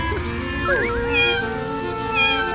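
Cat in a creepy hospital-themed video game giving a couple of drawn-out, bending meows over a low ambient hum, fairly close and clear.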